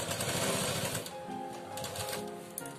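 A sewing machine runs steadily while stitching a folded waistband (nefa) onto a lehenga, its rapid needle chatter continuous and close, with no talking over it.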